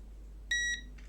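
A digital multimeter set to continuity or diode mode gives a single short, clear electronic beep as its probes touch, with a faint hum behind it.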